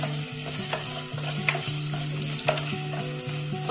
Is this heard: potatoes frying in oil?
yes